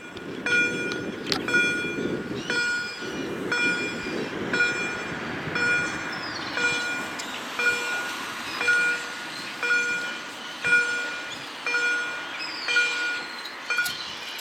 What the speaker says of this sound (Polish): opuszczanie szlabanu w Elblągu na ulicy Malborskiej na ostatni pociąg Telka Branicki w kierunku Krakowa